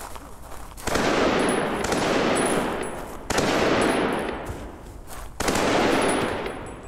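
Rifle gunfire in the VR shooter Blood Trail: three loud sustained bursts of rapid automatic shots, each lasting about two seconds and separated by short pauses.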